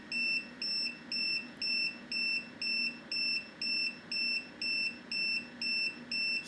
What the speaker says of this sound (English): Sorry about the alarm in the background, but it's doing what it's meant to do.